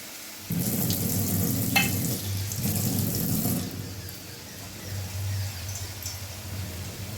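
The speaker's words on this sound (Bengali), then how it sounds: "এই কাশ্মীরি লঙ্কার গুঁড়ো দিলাম দেড় চামচ এটা কষে দেখি" Masala of coriander powder and Kashmiri chilli powder fries and is stirred in a pan for a parshe fish and vegetable dish, giving a steady close sizzle with a low hum and scraping bursts that ease off midway.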